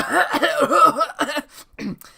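A person coughs several times in quick succession, raspy and close, then a couple of fainter coughs follow after a short pause.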